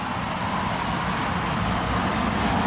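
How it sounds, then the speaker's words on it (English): A 2015 Ford Transit 150 cargo van's V6 engine, the same motor used in the Mustang V6, runs smoothly at idle with an even, close-up drone that holds steady throughout. "It's overall a very nice running engine."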